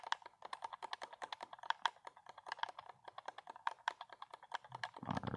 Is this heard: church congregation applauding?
no